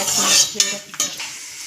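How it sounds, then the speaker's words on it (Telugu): Peanuts sizzle and fry in a pan, stirred with a utensil in a few scraping strokes over a steady close hiss, with no talking. "కొంచెం కలుపుకున్నాము బాగా ఫ్రై అవ్వనివ్వాలన్నమాట"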